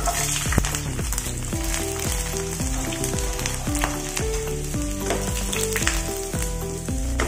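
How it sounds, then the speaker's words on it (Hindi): Loud, continuous sizzling of garlic frying in hot oil, with crackling bursts and occasional stirring clatter throughout, no voices. "अभी तेल गरम ही है तो हम लहसुन को इसमें भून लेंगे।"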